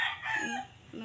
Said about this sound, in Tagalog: May manukan dito oh.